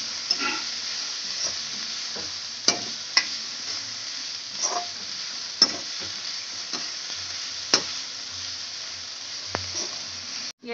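Chilli, tomato and soya sauces being stir-fried for egg fried rice: a steady close sizzle with sharp spatula clicks against the pan at irregular intervals, no talk.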